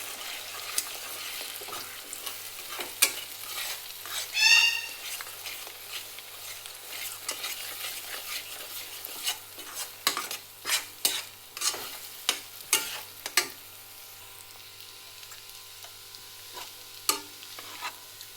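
A utensil stirs a spiced egg mixture in a frying pan for egg rice, producing a long run of irregular scrapes and taps against the pan over a soft background sizzle. No voices are heard.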